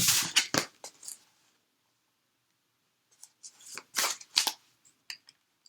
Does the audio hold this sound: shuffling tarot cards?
yes